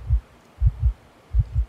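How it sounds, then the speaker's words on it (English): Heartbeat from the video game Infliction: steady paired low thumps, lub-dub repeated three times, close and heavy with no talk. "Why is my heart beating?"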